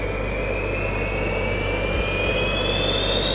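Five small jet engines on a Gravity jet suit spinning up from cold toward a steady idle around 30,000 RPM, producing a loud, continuous turbine roar with a rising high-pitched whine throughout, no voices.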